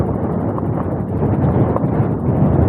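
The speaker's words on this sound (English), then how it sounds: "It's still windy out here" Steady, heavy wind buffeting the microphone outdoors while riding an e-bike, a constant low roar, loud and unbroken throughout.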